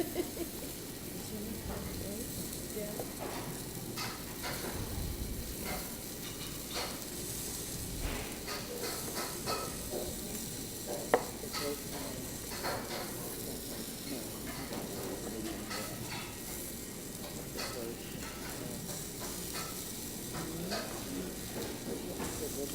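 Beef cooks in a hot pan with a steady, loud sizzle and hiss, and occasional stirring or scraping sounds rise above it.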